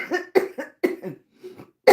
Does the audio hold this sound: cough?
yes